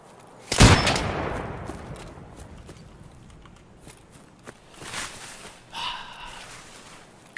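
An AK fires in Escape From Tarkov with one loud, close shot early on, followed by fainter scattered shots, footsteps and small clattering noises.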